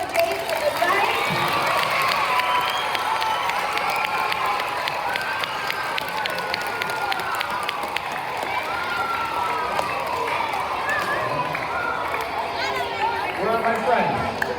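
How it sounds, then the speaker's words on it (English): Audience applause and cheering at the finale of a James and the Giant Peach show, a dense sustained wash of clapping and crowd voices filling the room for the whole stretch, with shouts and chatter mixed in. "Can we give one more round of applause for James and the Giants?"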